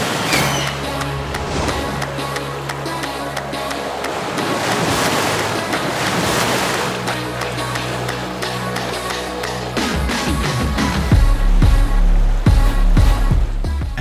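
Waves wash onto Diamond Beach on Iceland's south coast, a loud continuous surf roar with heavy wind buffeting the microphone, rising and falling as breakers roll in.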